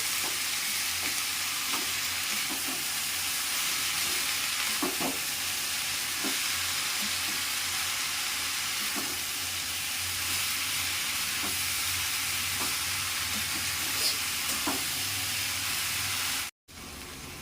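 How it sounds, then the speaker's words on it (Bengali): Plantain flower being stirred with spices in a frying pan, a steady sizzle underneath with scattered scraping strokes of the spoon, close and fairly loud, with no talking. "মোছাগুলোকেও ভালোভাবে মশলার সাথে মাখিয়ে নেব।"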